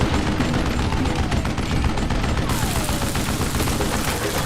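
Dense, continuous gunfire in the Western shooter Call of Juarez Gunslinger, rapid overlapping shots at loud, constant volume throughout.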